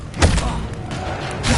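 A Depulso force-push spell from Hogwarts Legacy lands as a short dull thump with a soft whooshing burst, followed by a brief second knock.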